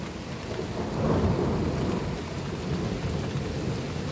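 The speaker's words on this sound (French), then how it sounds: "Là, ça commence bien à pleuvoir là d'un coup." Steady rain pours during a thunderstorm with strong gusting winds in Meyzieu, with a low rumble of thunder swelling and fading beneath the wash, and no speech.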